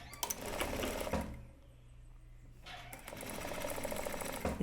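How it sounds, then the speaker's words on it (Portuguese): A sewing machine stitches bias binding onto a shirt in two close bursts of steady mechanical whirring, separated by a short slowing pause in the middle. "Então, só passar uma costura aqui."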